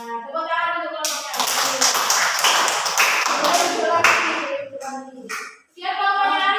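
Classroom applause for a student group, a burst of brisk, close hand clapping from students lasting a few seconds, framed by a teacher talking before and after.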